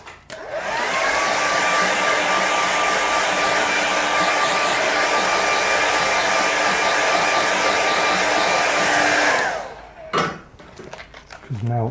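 A hair dryer blows steadily on a wet watercolour winter snow painting for about nine seconds, a loud close whoosh with a constant whine, then clicks off and a few light clatters and brief talk follow.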